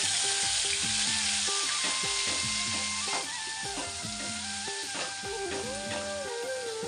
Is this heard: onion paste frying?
yes